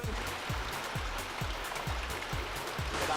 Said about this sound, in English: Why rain come down on me, boy?